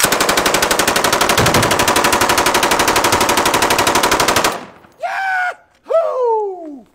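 A full-auto machine gun fires one long, rapid, steady burst for about four and a half seconds at a shooting range, loud and close, then stops and a woman whoops and cries out twice.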